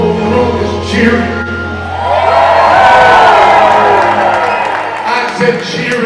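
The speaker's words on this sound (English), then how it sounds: "Now the whole room is cheering." A hall audience at the New Jersey Hall of Fame roars and cheers, swelling into a loud sustained wave of crowd noise mixed with shouts and whoops.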